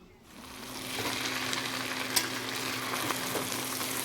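Figs with spices and minced meat fry in oil in a pan, giving a loud, continuous sizzle that builds quickly and holds steady, with faint stirring clicks and no talking.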